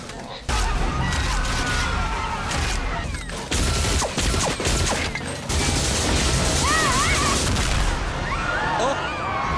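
Gunfire erupts in The Fifth Element, with loud bursts and crashes of an action scene, chaotic noise and shouts, and sharp cracks cutting in and out over several seconds.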